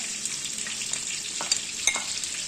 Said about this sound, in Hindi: ये पीस हमारे फ्राई हो रहे हैं